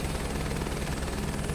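A video-game helicopter used for agricultural crop spraying gives off a steady, loud rotor and engine drone that stays even throughout, with no talking over it.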